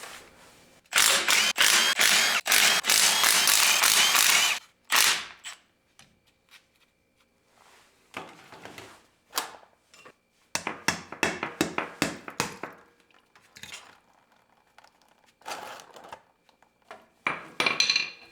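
Metal tools clink, tap and rattle against a truck's differential cover as it is worked off the axle during a regear job. A dense burst of rapid clatter comes first, then scattered sharp clanks and knocks, close by with no talking.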